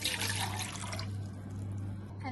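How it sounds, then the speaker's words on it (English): Fresh water is poured into a saucepan, a steady rushing splash that tapers off after about a second, leaving a faint trickle over a low background hum. "Let's put some water in the saucepan"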